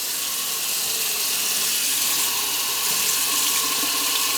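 Hot water runs steadily from a kitchen tap into a can, a continuous bright rushing splash held at an even level for the whole stretch with no voices.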